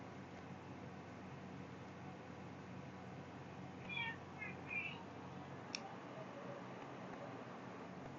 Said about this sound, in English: I can hear my cat yawning.